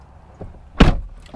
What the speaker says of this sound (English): shutting the door here of the Supra